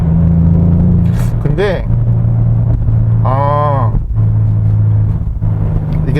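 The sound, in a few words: Hyundai Sonata N Line engine with active sound design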